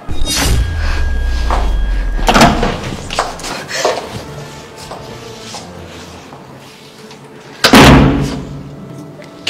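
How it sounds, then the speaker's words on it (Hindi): A door shut in a tense indoor drama scene, heard as two loud, close slams or thuds a few seconds apart, with rustling movement and faint background noise between them. "अरे अपने दरवाजा क्यों बंद किया?"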